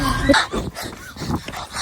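Puppies barking on a street, a string of short, high-pitched yips and whimpery barks close by, with scattered background noise.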